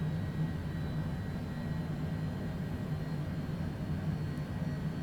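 Cessna Longitude business jet on the ground after pushback, with its right engine spooling up: a steady, low, continuous turbine roar and hum with a faint high whine, heard throughout without talk.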